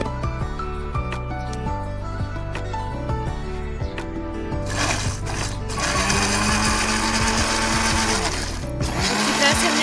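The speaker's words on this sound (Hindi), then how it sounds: "और इसे अब अच्छी तरह से ब्लेंड कर लेंगे।" A blender whirs steadily throughout, blending peaches with a little water, its motor pitch shifting and growing louder partway through as the contents churn.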